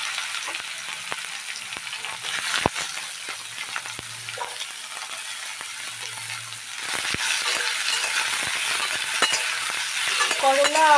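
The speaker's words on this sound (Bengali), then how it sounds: "এবার আমি করলা, আলু আর পেঁয়াজ একসঙ্গে কুচিয়ে রেখেছিলাম সেগুলো দিয়ে দিলাম" Chopped bitter gourd, potato and onion fry together in a hot pan, giving a steady close sizzle with occasional stirring scrapes that grows louder in the second half.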